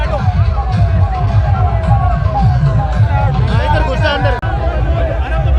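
Dense crowd hubbub at Hanuman Beniwal's rally at Salasar Dham, with many voices chattering and calling out on both sides of the road, a loud, steady babble that fills the whole stretch.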